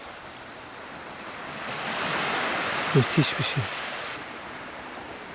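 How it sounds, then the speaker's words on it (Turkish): Sea waves rolling onto the shore at sunset at Ovabükü bay in Mesudiye, Datça, a soft, steady surf wash swelling gently in the middle, with a brief spoken voice over it. "Dalgaların sesi."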